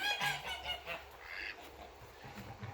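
Several geese on a farm honk in short, scattered calls at close range, with quieter rustling between the honks.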